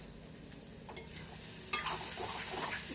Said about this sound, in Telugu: ఒకసారి బాగా కలిపేసుకుని